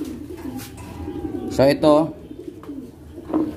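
A pigeon coos twice, close and clear, while held for vaccination, with someone talking briefly over the low background.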